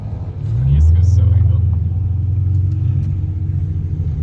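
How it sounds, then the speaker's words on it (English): Ford Mustang engine rumbling at a car meet, a deep low idle that swells briefly and then settles into a steady throb, close by, with people talking over it. "We got this Mustang up ahead that sounds so race car"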